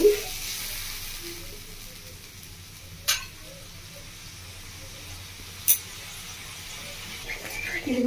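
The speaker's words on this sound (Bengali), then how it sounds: "দেখুন বন্ধুরা মশলাটা খুব ভালোভাবে ফুটিয়ে দিচ্ছি।" Masala spice paste simmering in a pan after water has been added, a steady faint sizzle and bubbling throughout, with two sharp clinks of a utensil near three and six seconds.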